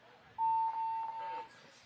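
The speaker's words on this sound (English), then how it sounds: "Blanco hits the buzzer" A paintball buzzer sounds at the end of a point: one steady electronic tone held for about a second, loud and clear above faint crowd and field noise.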